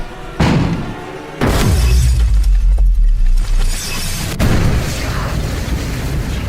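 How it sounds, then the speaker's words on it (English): A house window shattered from inside during a hurricane, with a sharp crash of breaking glass followed by heavy, sustained roaring and rumbling from the storm, close and loud throughout. "shatters the window"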